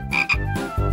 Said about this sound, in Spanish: ¿Qué hago yo con esta rana?